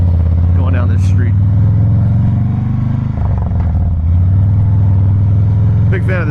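A 2017 Harley-Davidson Softail Breakout with a twin cam engine and Vance and Hines exhaust rumbles loudly and steadily while riding, a deep throbbing drone that dips briefly and returns.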